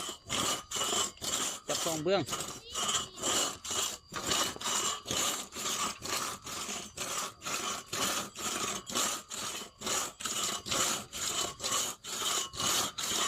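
A hand saw cuts through wood in a steady back-and-forth rhythm, each rasping stroke loud and close, continuing without pause.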